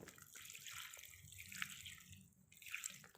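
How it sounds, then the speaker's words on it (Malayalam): Water splashes and trickles steadily as it is poured onto potted plants at home, fairly quiet and close, with a few brief drips near the end. "എന്നിട്ട് നല്ലപോലെ വെള്ളം ഒഴിച്ചാൽ മതി."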